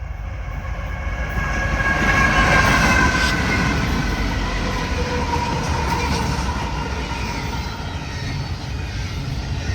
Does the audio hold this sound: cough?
no